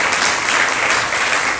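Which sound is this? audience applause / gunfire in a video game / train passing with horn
audience applause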